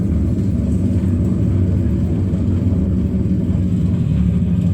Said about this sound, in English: reverse thrusters are up. Braking.